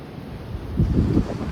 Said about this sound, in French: Le vent de fou.